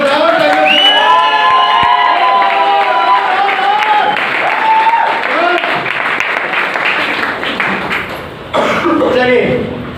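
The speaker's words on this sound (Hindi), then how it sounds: "तालियों, जोरदार तालियों से मुझे बता के दिखाएं" A packed hall at a motivational training seminar erupts in loud cheering, whooping and clapping, voices shouting and yelling over dense applause close up, with a cough and a brief lull before the crowd noise surges again.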